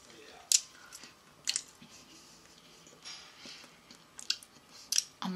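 Egg-shaped bubblegum being chewed close to the mic, with soft wet squishes and a few sharp clicks spaced irregularly, quiet overall against a hushed background.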